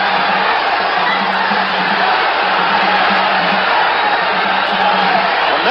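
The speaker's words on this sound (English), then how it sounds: "The crowd picks up" Boxing arena crowd at a ninth-round fight, a dense, steady roar of cheering and shouting that stays loud and constant throughout, with no single voice standing out.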